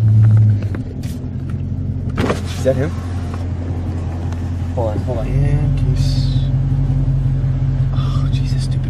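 A car engine runs at a steady low idle rumble inside the vehicle while people talk over it, with a brief whir partway through and the engine note rising slightly near the end.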